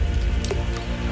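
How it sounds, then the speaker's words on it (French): Raindrops fall near a Belgian watering place, a few distinct drops tapping over a soft steady background, brief and close, with no voices. "De la plus petite goutte de pluie"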